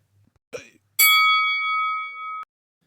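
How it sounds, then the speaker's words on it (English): A single bell is struck once and rings out with a clear sustained tone that fades over about a second and a half, preceded by a brief knock. "the bell is rung"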